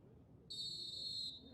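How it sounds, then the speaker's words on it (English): A referee's single sustained whistle blast opening a CONCACAF Under-17 qualifying football match between Dominica and Nicaragua in Toluca, Mexico, heard faintly from a distance for just under a second over low stadium ambience. "there is our opening whistle"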